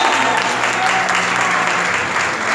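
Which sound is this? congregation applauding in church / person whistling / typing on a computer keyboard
congregation applauding in church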